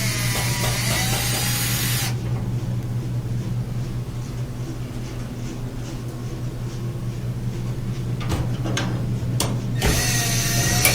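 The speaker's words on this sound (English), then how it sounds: "Let's get that screw out of there." Screwdriver backing a screw out of an electric dryer during a no-heat repair, with a steady motor hum throughout, a couple of sharp metallic clicks near the end and bursts of scraping noise.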